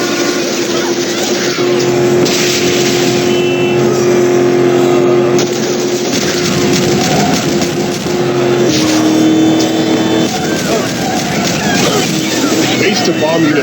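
Engine of a vehicle driving in the zombie game Road of the Dead, a steady loud motor drone with a shifting pitch that runs throughout, while voices talk over it.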